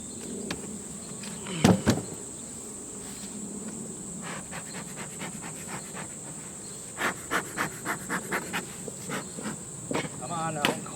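Honeybees from an open, queenless hive hum in a steady drone close by, broken by scattered clicks, knocks and brief rustling handling noises, with a voice audible briefly in the background.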